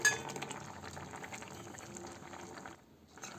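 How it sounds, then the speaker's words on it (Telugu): Jackfruit curry simmering in a pot, a steady close bubbling and gurgling with faint clinks, the boil dipping briefly quieter near the end before resuming. "కొంతసేపు దీన్నే బాగా కాగనిద్దాము, ఇంకా సాఫ్ట్ అవుతాయి."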